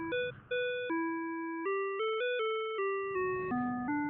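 A chiming melodic jingle plays in Spirit Crossing, a relaxing open-world mobile game, with clear stepped electronic tones resembling an old Nokia ringtone, following a brief noisy moment at the start.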